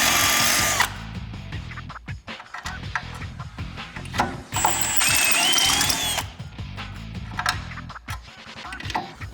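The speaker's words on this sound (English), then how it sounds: "I'm going to use a step bit to get to the right size for our nutsert" A step drill bit enlarges a hole in a Jeep JK Wrangler front inner fender for a nutsert, heard as loud bursts of grinding metal drilling with ratcheting clicks and short pauses between passes.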